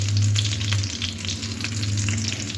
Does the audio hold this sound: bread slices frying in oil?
yes